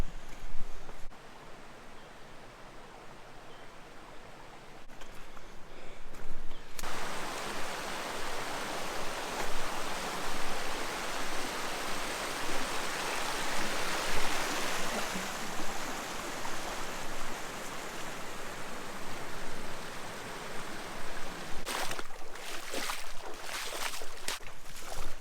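A creek rushes over small waterfalls and rapids in a wild Australian gorge, a dense, constant roar of water that swells loud through the middle, with rustling and handling noises near the start and end.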